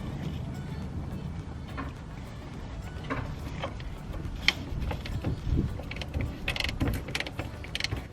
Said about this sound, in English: hold it with an 18mm spanner on this side and then remove it with the ratchet on this side